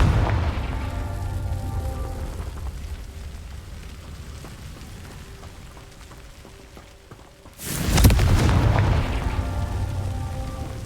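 Confringo explosion spell cast in Hogwarts Legacy: a single loud, sudden fiery blast with a rumbling burst that decays into lingering crackle over a steady ambient game backdrop.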